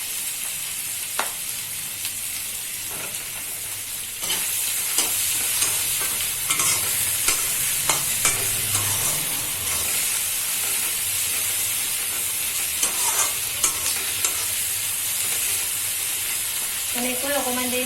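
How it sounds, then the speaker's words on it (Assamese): Chopped capsicum, salted, is stir-fried in a pan with oil for a fish and sponge gourd dish, giving a steady sizzle and hiss with repeated scrapes and clinks of a spatula stirring. "এনেকৈ অকণমান দেৰি ভাজি লওঁ"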